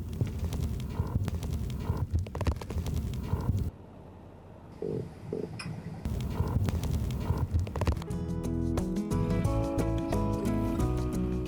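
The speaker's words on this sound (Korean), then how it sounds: "바닷속 민어 울음소리를 들어보는데요" Low, throbbing croaks of croaker fish (minuo) pulsing steadily underwater in the Yellow Sea, a dense frog-like chorus over a constant hum, with a brief quieter break midway.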